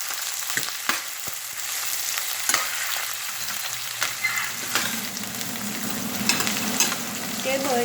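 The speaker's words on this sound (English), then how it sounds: "இந்த வெட்டின வெங்காயத்தை நான் போடுறேன்." Sliced onions drop into hot oil in a pan and sizzle, with a steady crackling fry and a few soft stirring knocks, close and fairly loud, and no voices.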